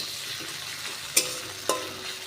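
Half a chopped medium tomato is stirred into fried onions in a hot pan for a ridge gourd and prawn curry, giving a steady sizzle with two sharp spatula clinks against the pan.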